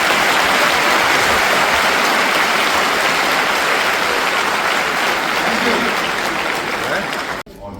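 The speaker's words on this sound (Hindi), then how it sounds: "ताली बजाओ, क्या कर रहे हो?" Loud, dense audience applause filling the Birla Auditorium at a conference of CA students, a continuous roar of many hands clapping that cuts off abruptly near the end.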